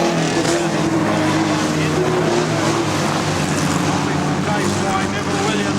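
Modified production race cars roar away at a speedway, engines loud and continuous as the field heads down the back straight. A commentator calls the race over the engines.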